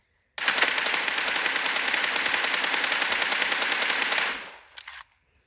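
Sustained automatic gunfire in a video game match: one loud, close, continuous burst of rapid shots lasting about four seconds, then a brief trailing shot.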